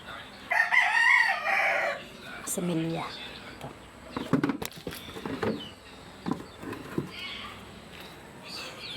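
Chickens clucking nearby with a rooster crowing loudly near the start, scattered bird calls and background voices throughout.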